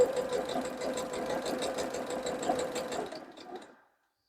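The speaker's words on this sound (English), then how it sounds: "I'm just going to stitch along the edge of this design." Sewing machine stitching along the edge of a fabric coin purse design: a steady, rapid mechanical whir of needle strokes for about three seconds, then slowing and stopping, heard close and alone.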